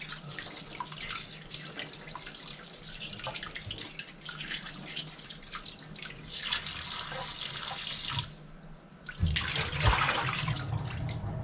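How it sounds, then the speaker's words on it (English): Tap water runs steadily into a kitchen sink while raw cured duck breasts are rinsed underneath, a continuous close splashing flow that grows louder and more turbulent toward the end. "I'm gonna rinse these off thoroughly and then pat them dry."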